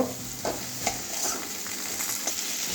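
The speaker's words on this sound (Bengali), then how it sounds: "ভেন্ডিগুলো আবার ভালো করে মশলার সঙ্গে মিশিয়ে নেব" Fried okra being stirred into spice masala in a pan, steady close sizzling with a few sharp scraping strokes of the spatula, moderately loud and without talk.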